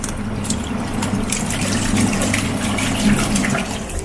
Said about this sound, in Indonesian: Kita buang airnya dulu.